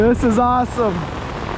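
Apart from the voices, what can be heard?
heavy rain during a thunderstorm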